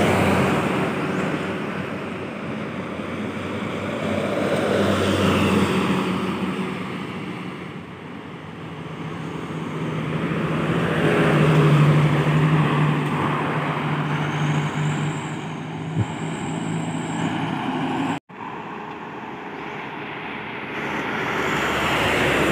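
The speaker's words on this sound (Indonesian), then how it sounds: "Bus pariwisata." A tourist bus passes on the Ngawi ring road, its rushing road roar rising and falling in waves amid steady traffic, with a brief high whine and a short dropout near the end.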